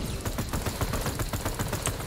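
The Wraith weapon in Fortnite Save the World fires in a fast, even stream of sharp rattling shots, close and loud, with no talking over it.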